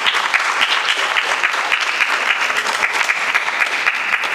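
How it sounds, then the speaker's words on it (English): Audience applause at the Trinidad & Tobago Biennial Music Festival at Naparima Bowl, a loud, dense, sustained clapping from a large crowd filling the hall without pause. "Let's give them a big round of applause."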